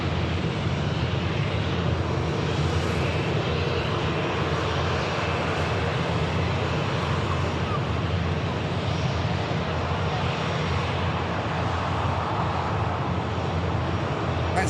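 At Manchester Airport, a Gulf Air Boeing 787 Dreamliner bound for Bahrain spools up its engines, a constant, dense roar with a low rumble that holds steady for the whole stretch.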